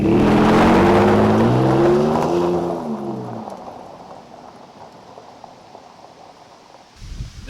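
A Ford F-150 with traction control switched off accelerates hard, its engine rising in pitch as it revs up through gears, loud and close, then fading as the truck pulls away.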